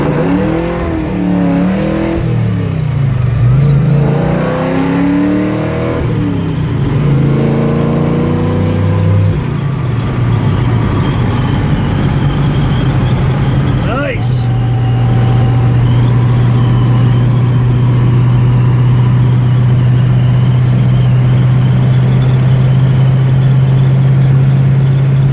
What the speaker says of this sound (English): let's burn a little rubber